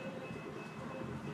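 A train passing by outside a cafe, a steady low rumble with a constant thin high tone, continuous and moderately distant over the short stretch, without talk.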